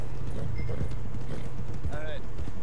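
Horse hooves clip-clopping in Red Dead Redemption 2 as a big horse walks toward the stables, a steady rhythm heard under game music and background sound, with a short whinny-like tone near the end.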